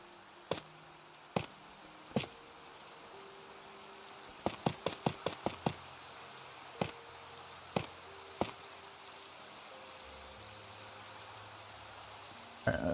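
Steady rain hisses through a Minecraft world, a soft continuous wash under quiet game tones, broken by a series of sharp clicks and block-placing taps scattered across the scene.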